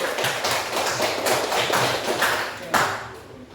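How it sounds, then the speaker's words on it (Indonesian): Classroom of students clapping for a presenting group, a loud burst of close, irregular hand claps with a few sharper slaps, continuing for a few seconds. "Berikan tepuk tangan untuk kelompok 1."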